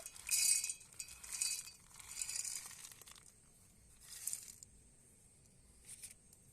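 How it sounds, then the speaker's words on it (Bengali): Roasted peanuts tipped into a mixer grinder jar give a few quiet bursts of clinking, rattling patter, strongest at the start and tapering into fainter trickles with short pauses between pours. "একটা মিষ্কির জার নিয়েছি আর জারের মধ্যে আমি বাদামটাকে ঢেলে নেব"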